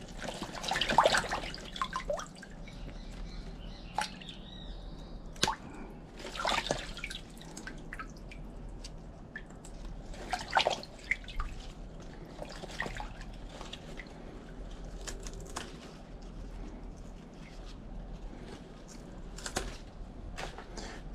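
Water drips and trickles from a tap while plant roots of an Aglaonema Two Tone Moonstone are rinsed, scattered close splashes with a soft running stream underneath, fairly quiet throughout.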